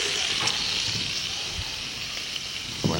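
Frog legs sear in a hot pan with shallot, giving a steady close sizzle with a few soft clicks and stirring knocks, no talk over it.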